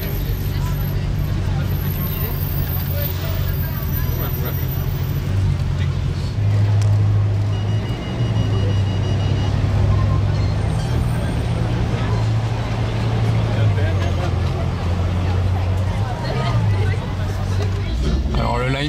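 A Bugatti arrives in Monaco among a large crowd of tourists, its steady low engine rumble running beneath constant loud crowd chatter throughout.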